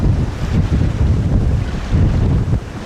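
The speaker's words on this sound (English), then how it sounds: "we've now got beautiful blue sky and a fabulous sailing breeze, still from the southeast, about force 5" A strong southeasterly sailing breeze of about force 5 buffets a small yacht under blue sky, a continuous loud low roar of wind rushing past with gusty swells, without any voices.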